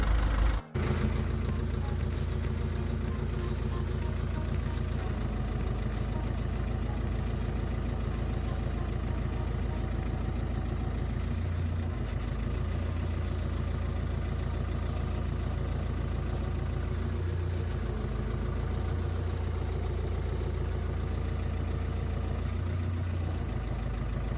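An Ursus tractor engine runs steadily at about 1000 rpm, driving an external NSZ32 hydraulic pump, a constant low throbbing rumble close by, unchanging for the whole stretch.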